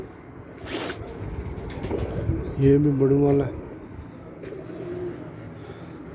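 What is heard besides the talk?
caged pigeons cooing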